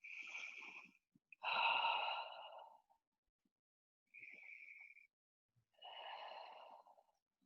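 Slow, deliberate breathing during a yoga class, with several long audible inhales and exhales separated by quiet pauses, close and soft.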